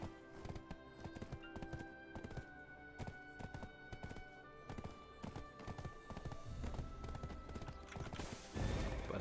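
A horse's hooves clop in a steady, rapid rhythm as it runs in the online game Black Desert Online, with a neigh in the mix and a louder burst of noise at the end.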